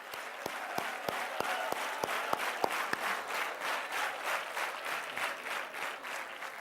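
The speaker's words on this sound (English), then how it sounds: "that was actually a big clap to each one of you" An audience at a corporate HR talk at a housing society applauds steadily for several seconds. A few sharp, distinct claps stand out at the start before blending into dense, even clapping at moderate distance.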